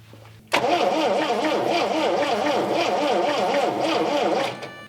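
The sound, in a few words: 1979 MG engine starting after starter relay swap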